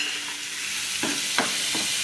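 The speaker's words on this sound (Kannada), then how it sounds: "ಹಲ್ದಿ ಎಲ್ಲ ಹಾಕಿ ಇದನ್ನು ಫ್ರೈ ಮಾಡಲಿಕ್ಕೆ ಬಿಡುವ." Turmeric frying with tomato masala in a pan for a Mangalore-style dried shrimp dish: a steady, loud sizzle with a few soft stirring scrapes, no voices.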